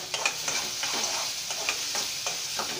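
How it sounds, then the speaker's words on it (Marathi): Blended tomatoes cooking in oil for chicken masala, a steady sizzle broken by repeated scraping strokes of a spoon stirring the pan, close and alone. "आपल्याला टमाटे शिजून घ्यायचं आहे चांगलं, 5 ते 10 मिनटं थांबा,"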